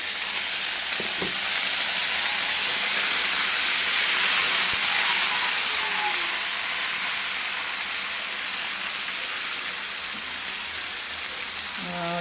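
Garlic and onion sizzling steadily in hot oil in a home kitchen, a loud continuous hiss and crackle that holds level throughout with a few faint clinks and a soft voice.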